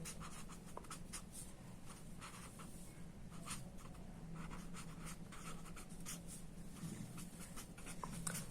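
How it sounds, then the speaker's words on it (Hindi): A teacher writes on a board during a Hindi geometry lesson on lines and angles, producing repeated short scratchy strokes and taps in an irregular rhythm for the whole stretch, close and steady over faint room hum, with no talking. "यहाँ पर मैं लिख देता हूं शीर्षाभिमुख"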